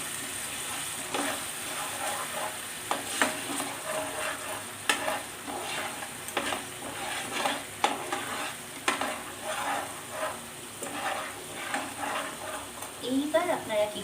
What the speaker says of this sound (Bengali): এবার ভালো করে সসটা নাড়াচাড়া করে নেব।